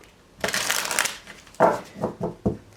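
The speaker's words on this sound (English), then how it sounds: "Two more shuffles." An oracle card deck is shuffled by hand, first a long continuous riffling rustle, then several short separate snaps of cards, close and fairly clear with no talk.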